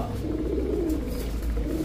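A male Rajshahi Mili Giribaz pigeon coos softly and continuously, a low rolling murmur close by with steady background noise.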